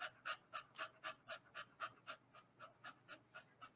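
A stressed dog pants in quick, even bursts, about four breaths per second, faint but clear and steady, with no other sound around it.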